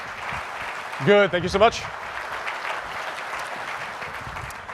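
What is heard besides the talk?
audience applause as volunteer joins stage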